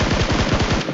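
Rapid automatic gunfire from a teammate's weapon in the PUBG Mobile battle royale game, a loud, steady burst of about a dozen evenly spaced shots filling the whole second with no voices.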